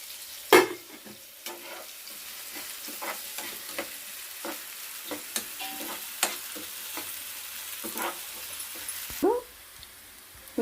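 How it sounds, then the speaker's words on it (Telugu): Sliced onions frying in a pan for an aloo carrot curry give a soft, steady sizzle, broken by scattered clinks and scrapes of stirring and louder knocks near the start and end. "ఈ ఉల్లిపాయలు కూడా వేగినాయండి, కొద్దిగా ద్వారగా వేగినాయి"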